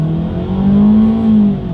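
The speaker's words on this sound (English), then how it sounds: "dang, this engine gets loud when you really put the pedal to the metal here" A 2020 Ford EcoSport's inline-four engine, a budget 4WD SUV, accelerating hard from a rolling start, with a loud rising drone climbing steadily in pitch, heard close from inside with no talking.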